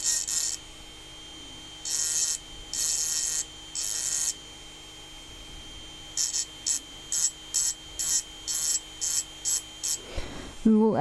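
Engraving drill run slowly against a glass vase gives a series of short, high, scratchy bursts, first a few spaced strokes and then a quicker run of brief touches over a quiet motor hum.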